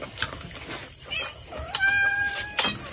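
A native chicken clucks close by in a rural yard, giving a few short clucks and a sharp squawk over a low background hiss.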